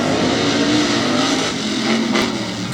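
Tough trucks racing on a dirt track at a Bloomsburg, Pennsylvania qualifying session, loud continuous engine roar with revving, close and dominant, without speech.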